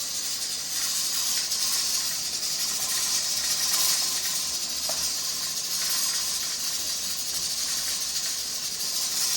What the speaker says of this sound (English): So that's why I'm letting it fry a little more.